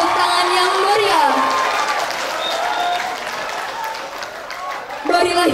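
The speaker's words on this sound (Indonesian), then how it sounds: "Beri tepuk tangan yang meriah." A theater audience applauds after a Shankara Teater stage performance, dense sustained clapping from the crowd with a host's amplified voice talking over it.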